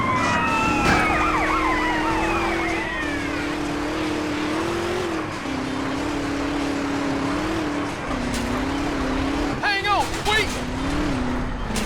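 A fire truck siren wails in the video game GTA San Andreas, a steady rising-and-falling tone that persists throughout over engine and street noise, with brief extra sirens and clatter near the end.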